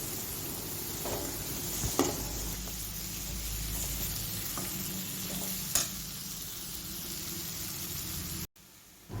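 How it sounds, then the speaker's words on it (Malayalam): Tomato masala for a Kerala-style prawn roast is stirred in a pan: a steady, close frying hiss with a few sharp spoon scrapes and clicks, then a brief drop to silence near the end. "1 മിനിറ്റോളം നന്നായിട്ട് ഇളക്കുക."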